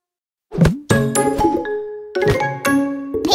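A bright two-note ding-dong chime rings out twice in a children's song intro, each tone ringing and then decaying under tinkling musical accompaniment.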